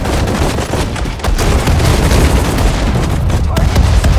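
Battle gunfire rages in Sudden Strike 4 on Guadalcanal in the Pacific War, with loud, continuous volleys of rifle and machine-gun shots and heavy booms, and voices shouting orders over the barrage.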